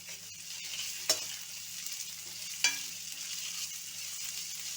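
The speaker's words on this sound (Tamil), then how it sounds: "இப்போ வெங்காயம் ஆட் பண்ணிக்கலாம்." Onions sizzle in a pan of hot oil with cashews for peas pulao, a steady bright frying hiss broken by two sharp spoon clicks as they are stirred, close and alone with no talking.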